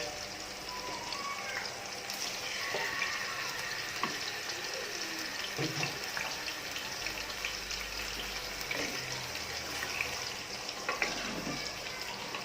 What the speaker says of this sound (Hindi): चिकन को डालने के बाद आपने डीप फ्राई करना है तकरीबन 4 से 5 मिनट